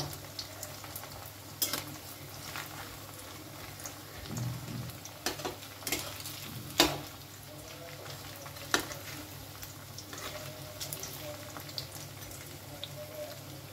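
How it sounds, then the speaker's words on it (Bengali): Cauliflower pieces for restaurant-style chilli gobi fry in oil until reddish, a quiet continuous sizzle punctuated by scattered spatula knocks and scrapes against the pan. "বেশ সুন্দর করে একটু লাল লাল করে ভেজে নেব।"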